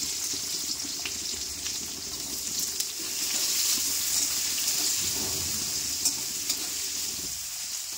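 Chopped onion frying with curry leaves and chillies in a pan for a homemade dosa filling, a loud, steady close sizzle with occasional scrapes of stirring and no talk.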